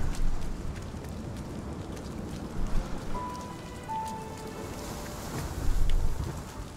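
Steady rain in the video game RiME patters and hisses across a surface, with a couple of faint high tones drifting through; no one speaks.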